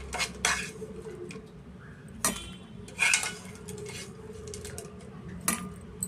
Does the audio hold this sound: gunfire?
no